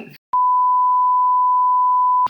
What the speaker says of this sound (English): We got the beep tone down there.